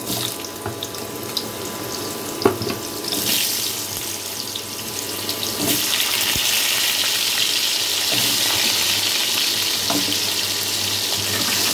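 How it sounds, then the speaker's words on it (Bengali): Two medium-sized potatoes frying in oil left over from frying paneer kofta, starting as a quieter bubbling and swelling into a loud, continuous rushing sizzle partway through, with no voices. "এখন আমি ওই একই তেলের মধ্যে আমি দুটো মিডিয়াম সাইজের আলুকে ভেজে নেব।"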